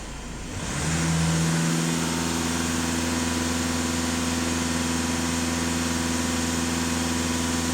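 A VW Touran 2.0 TDI diesel engine idles, then is taken to full throttle and held there, building quickly into a loud, sustained roar with a steady tone and no speech over it.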